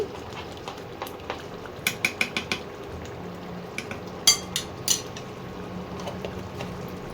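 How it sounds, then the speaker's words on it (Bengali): Ghee goes into a jackfruit and chana dal curry, with a spoon clinking and scraping against the metal pot in a run of sharp taps, plus soft stirring and faint sizzling close by. "এবারে আমি এতে দেবো 1 চামচ ঘি।"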